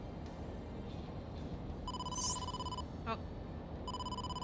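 A phone rings an incoming-call tone in the video game AI: The Somnium Files, with electronic beeping pulses and a brief chime sweep over a low background hum, and a voice speaks briefly.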